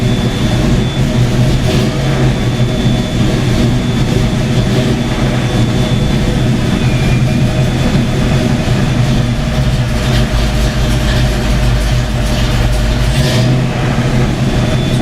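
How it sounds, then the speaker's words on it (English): A Fox-body Ford Mustang engine with an odd oil-pressure problem runs loudly and close, a deep steady rumble with rising swells as the throttle is blipped, then settling back toward idle. "Now if I keep just revving it"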